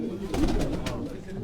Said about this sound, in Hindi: बड़े अच्छे कबूतर बैठे